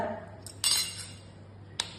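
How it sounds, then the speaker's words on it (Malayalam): An egg cracked into a bowl of coarsely ground minced meat for homemade burger patties: a sharp, close crack, then a second small click a moment later against a quiet kitchen background. "ഇനി ഇതിലേക്ക് ഒരു മുട്ട"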